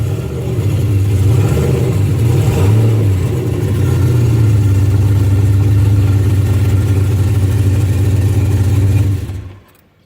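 A turbocharged Mustang 5.0 with an On3 Performance turbo kit revs under light throttle, a loud, steady mid-pitched engine note with brief rises in pitch, running continuously before cutting off near the end.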